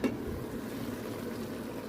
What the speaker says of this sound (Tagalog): Kumulo na siya guys.